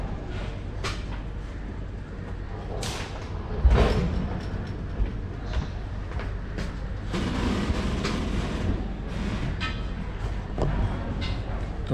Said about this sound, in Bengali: তো ট্রেন কিন্তু আমাদের ছেড়ে দিয়েছে নির্ধারিত সময় থেকে মাত্র 3 মিনিট লেটে।